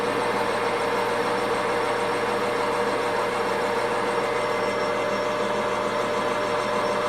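A lathe spins a 4-jaw D1-4 camlock chuck at 600 RPM, giving a steady, close, continuous mechanical whir and hum that holds even throughout with no voices.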